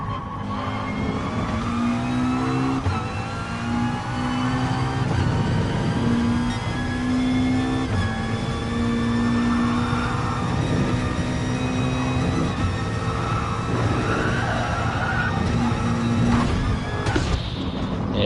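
Race car engines in Gran Turismo Sport on the Dragon Trail Seaside circuit: a continuous loud, high-pitched drone that rises and falls as the cars accelerate and shift, with several engines layered together throughout.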